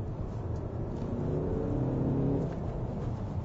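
A Mazda Atenza diesel engine accelerates, a low, thick droning rumble whose pitch climbs steadily as the revs build, heard close and continuous with no talking.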